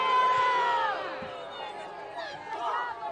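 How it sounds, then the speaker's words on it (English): A stadium crowd at a professional soccer match voices loud displeasure at a foul call, a swelling mass of whistles and shouts that peaks at the start and dips before rising again. "Crowd doesn't like it."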